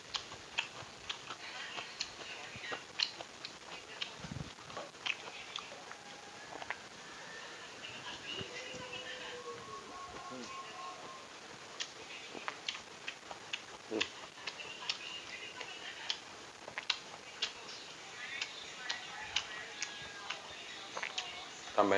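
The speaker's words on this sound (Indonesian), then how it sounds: "Kriuk-kriuk sayurnya." Crisp, irregular crunching clicks from someone chewing boiled bamboo shoot vegetables close up, many small snaps scattered over a quiet background with occasional soft mouth sounds.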